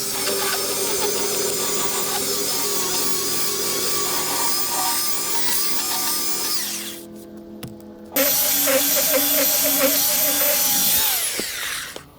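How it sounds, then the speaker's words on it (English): Power sander working over the rotten port side of an old wooden boat hull, a loud, steady whine close by that dips briefly before surging back up, then winds down at the end. "let's give this a good sand so we can figure out where all the bungs are."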